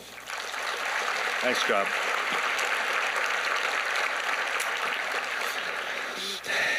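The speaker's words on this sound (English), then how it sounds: "I think we should just give United Way one more quick round of applause" An audience at a United Way Black Hills Month of Caring event gives a quick round of applause, a steady dense hiss of clapping lasting several seconds, with a voice briefly speaking over it.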